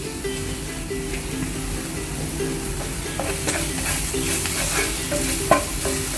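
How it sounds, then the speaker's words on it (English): Garlic frying in oil with oregano and rosemary for ramen, a steady close sizzle with spatula stirring and light clinks against the pan, a sharper knock near the end. "Fry this till the garlic is a little light brown."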